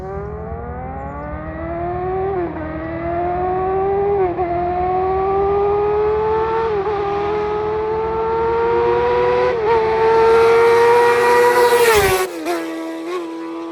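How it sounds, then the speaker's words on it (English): A 2019 Yamaha R6 with a full Akrapovic exhaust roars past, its engine note climbing steadily as it approaches, then dropping off sharply as it passes; loud and close, no talking. "he's going to do a little flyby so that way you guys can hear what this exhaust sounds like"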